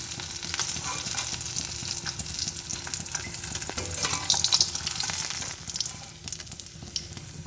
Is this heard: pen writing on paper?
no